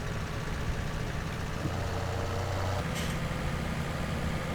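Tractor engine idling in the Farming Simulator 17 farming game, a steady low rumble that holds at an even level throughout with no talking over it.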